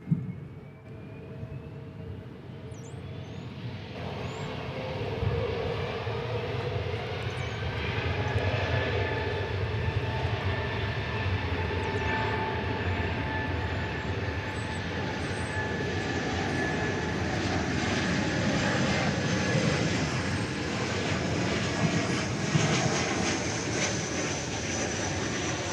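An airplane flies past at DFW Airport on a special flight with an unusually high flight number; a steady, broad engine roar builds within the first few seconds and holds loud and even throughout.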